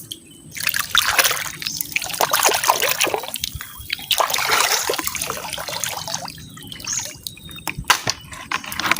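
Clear seawater laps and trickles along the shore at high tide, a steady close-up wash of small splashes and drips that continues without pause, with no talking over it.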